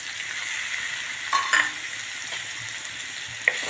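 Chopped garlic, ginger and green chillies fry in a pan for a paneer and amaranth curry, a steady close sizzle with a few light clinks of stirring.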